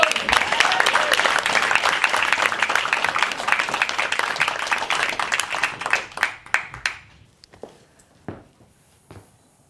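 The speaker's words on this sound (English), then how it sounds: "Please give a huge round of applause for our next speaker" A live audience at the SPEAKup Challenge speaking event claps loudly for the next speaker, a dense roar of applause that holds steady for several seconds, then thins into scattered individual claps and fades out.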